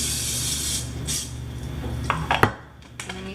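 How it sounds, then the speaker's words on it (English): Cooking spray hisses in two short bursts onto a preheated waffle maker, followed by light metallic clinks and a clatter as the can is set down. "Spray it with some cooking spray."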